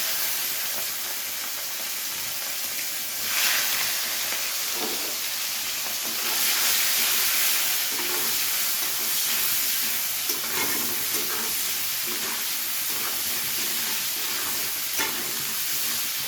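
Shrimp seasoned with salt and turmeric sizzle and fry in a pan for a Bengali lau chingri dish, a continuous hiss with occasional stirring scrapes and bubbling pops, no voices.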